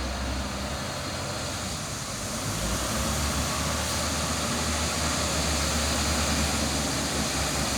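A loaded dump truck drives past on a construction project, its engine rumbling as a steady, loud drone that swells slightly as it nears, with no talking.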